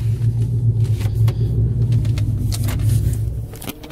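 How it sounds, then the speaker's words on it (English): A car engine with an aftermarket camshaft idles with a deep, loping rumble, its low pulse rising and falling unevenly, close and steady throughout. "So you see the RPM goes up and down."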